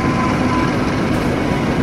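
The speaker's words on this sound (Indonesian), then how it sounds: "Jalur 2 Argo Anggrek C682 melintas langsung 1726." The Argo Anggrek express train passes straight through Jatinegara station on track 2, a loud, steady low rumble of locomotive and rolling cars that lasts the whole moment, with no talk.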